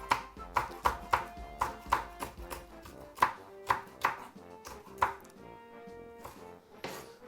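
A knife chops spring onion and other ingredients for Jamaican fried saltfish on a board, a string of sharp, evenly spaced strikes, close and clear, thinning toward the end with no talk.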